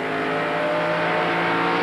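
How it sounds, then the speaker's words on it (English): NASCAR SuperTruck race trucks at Richmond roar loudly and continuously, a dense engine drone from the pack racing around the track, with no speech over it. "Schrader going by the 17, trying to get by that Darrell Walker at the Western Auto truck"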